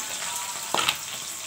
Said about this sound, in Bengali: ভেন্ডি আলুটা দিয়ে দিচ্ছি